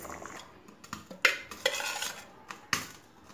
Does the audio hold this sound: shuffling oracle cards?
no